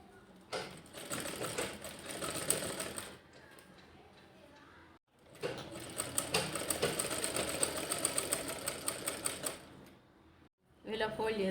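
A sewing machine stitches a bag made from woollen waste in two long, loud, rapid mechanical runs separated by quiet pauses, then starts again at the end.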